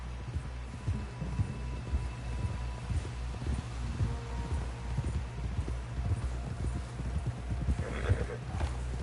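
A horse walking with a steady run of close clip-clopping hooves over a low hum, with a brief whinny near the end.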